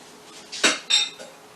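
Spoon scraping and clinking around a pot of sauce for chicken parmigiana, two short bright metallic strokes close by with a faint trailing scrape, no talk.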